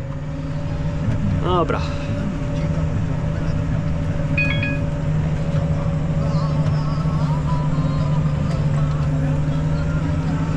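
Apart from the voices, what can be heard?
tractor pulling a fertilizer seeder uphill in a field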